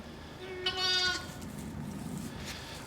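A newborn lamb lets out a single short, wavering bleat close by in a straw-bedded pen at the start of lambing season, followed by quiet rustling.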